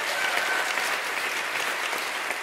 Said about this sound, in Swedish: en applåd för Lennart Åklinds stiftelse